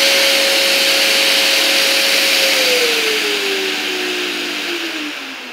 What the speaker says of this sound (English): when I start the tool, the extractor starts